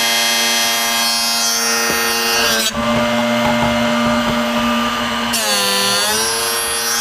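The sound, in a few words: Drill Doctor sharpener grinding and splitting a drill bit tip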